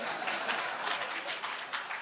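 An audience applauds during a speech at the official closing of a KTDA induction event, a continuous wash of clapping that stays steady and fairly loud for the whole stretch, with no voice heard.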